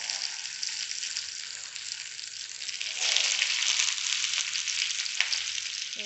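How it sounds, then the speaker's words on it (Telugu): Kilimeen fish wrapped in banana leaf fries in about three spoons of oil in a pan, a steady close sizzle that swells louder halfway through and then holds. "మనం రెడీ చేసుకున్న అరిటాకులోన చేపను పెట్టుకున్నాం కదా, దాన్ని ఇట్లా వేసుకోండి."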